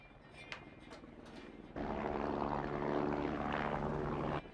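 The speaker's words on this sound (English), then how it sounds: "That's the chopper." Helicopter flying overhead in a horror film, a low rotor roar that surges in abruptly after quieter clicks and noises and then holds loud and steady before cutting off.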